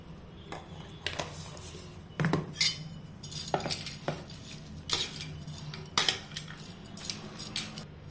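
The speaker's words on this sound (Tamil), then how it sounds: "உப்பு போட்டுட்டு எல்லாத்தையும் நல்லா கிளறி விடலாம்." A metal spoon scrapes and clinks against a pot while coconut rice is stirred with salt, a series of close, irregular knocks and clatters over a quiet background.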